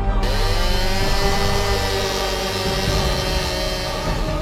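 A power saw cuts a wooden trench shoring plank to make room for a pipe, a loud steady whining buzz with a constant pitch that runs the whole way through close by.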